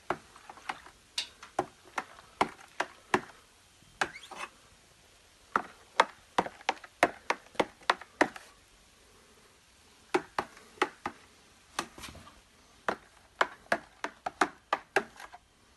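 Sharp clicking and knocking of a spoon stirring vigorously inside a container of alcohol mash for a still, in rapid bursts separated by short pauses.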